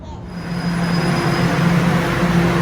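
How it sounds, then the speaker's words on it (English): A loud, steady rumble of a train running, with a sustained low hum and a faint high whine, rising slightly at the start. "That's a train."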